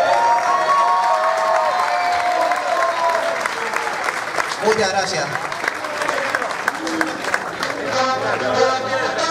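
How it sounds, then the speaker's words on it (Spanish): Applause and cheering from a crowd at an urban music festival awards ceremony in Santa Cruz de Tenerife, steady and dense throughout, with a voice speaking over it. "Un aplauso para"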